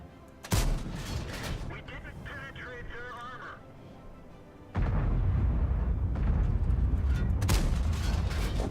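Tank gun firing in World of Tanks, a sharp blast near the start, then a second heavy boom after a quiet stretch with a loud rumbling mechanical drone continuing under it.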